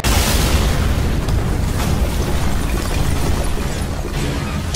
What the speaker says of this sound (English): A bomb? Oh shit!